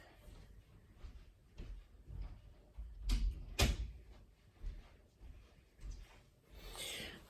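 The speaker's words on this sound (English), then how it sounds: "Let me go shut the door real quick." A nearby door is pushed shut with a couple of sharp knocks and a thud, followed by quieter handling sounds in a quiet house room.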